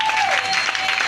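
A church congregation applauds in a dense wash of clapping from many hands, loud and continuous through a short burst, with a faint tone sounding beneath.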